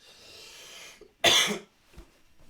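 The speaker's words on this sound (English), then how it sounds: "Let me clear my throat because I don't want to stop halfway through this." A soft hiss gives way to one sharp, close throat-clearing cough from someone with a cold and asthma, followed by a faint rasp.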